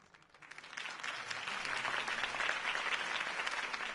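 Crowd applause after a campaign speech in the Batman Telltale video game, a steady dense wash of many hands clapping that builds from quiet and holds at a moderate level, slightly distant and without voices.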